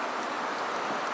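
Steady rain falls on a rainy day at a campsite in the Outer Banks, a dense, even hiss of drops filling the whole moment without pause or voices.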